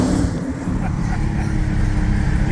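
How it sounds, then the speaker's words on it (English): A Dodge Challenger Redeye Wide Body in sport mode sends a loud, steady exhaust drone through the cabin while cruising on a bridge, with road noise beneath and no clear speech. "Listen to exhaust here."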